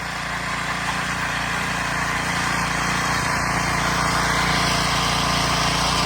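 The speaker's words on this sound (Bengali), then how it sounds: "এই যে এই মেশিন টানিয়ে নিয়ে পাইপ দিয়ে বাইরে নিয়ে ফেলছে" A snow-clearing machine throwing deep snow out through its discharge pipe after a heavy storm in the USA, a steady, unbroken engine roar with a broad rushing blast, constant and close throughout.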